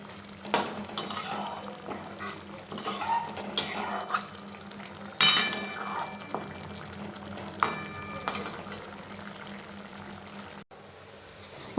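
Chicken chana is stirred in a cooking pot while the chicken simmers, with a utensil scraping and clinking against the metal in irregular strokes over a soft background bubble, close and moderately loud.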